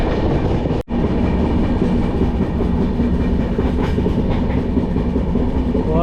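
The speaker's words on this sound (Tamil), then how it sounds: "சென்னை சென்ட்ரல் நோக்கி போய்கிட்டு இருக்க வண்டி." Coromandel Express passenger train running on rails toward Chennai Central, a loud, steady rumble and rhythmic clatter of wheels heard from on board, with one brief dropout.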